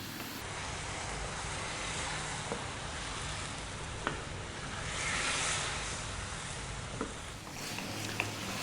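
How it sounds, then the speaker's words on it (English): Sweet and sour pork with onion stir-fried over high heat gives a steady, even sizzle with occasional soft clicks of stirring, close and continuous, with no talking. "We're going to go just for 4 more minutes on this high heat, stirring pretty much all the time."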